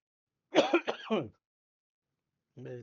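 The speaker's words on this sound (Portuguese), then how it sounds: "Crise de tosse." A coughing fit: a close burst of several rough, harsh coughs, a short silence, then one more cough starting.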